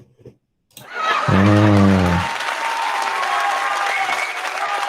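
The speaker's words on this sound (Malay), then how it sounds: "Bagi tepukan lah." Applause erupts during an online class held over Google Meet, a brief tonal burst followed by loud, sustained clapping that carries on evenly to the end.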